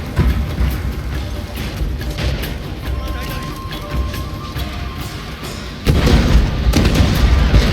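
Artillery fire sounds in the video game Shogun 2 during a large battle: dull, rumbling booms and bursts roll over a constant low battle din, with louder blasts toward the end and voices mixed in.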